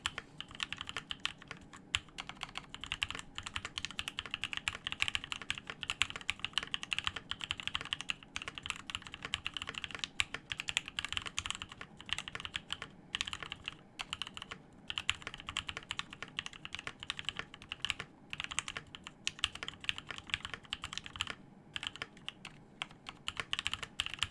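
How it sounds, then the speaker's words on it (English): Steady typing on a Discipline65 mechanical keyboard, a dense run of close, crisp key clacks with occasional heavier spacebar thocks, continuing for about twenty-four seconds with no talking. "So this is my typing test."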